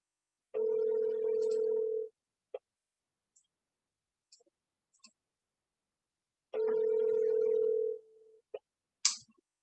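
Two long steady ringback tones on a phone call to a son, each about one and a half seconds, separated by a pause with faint clicks and small noises, close and clear with no talking.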